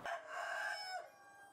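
A rooster crows once at a chicken farm raised on sand, a close, clear call of about a second that rises and then trails off.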